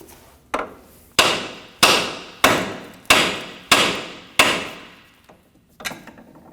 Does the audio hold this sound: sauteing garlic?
no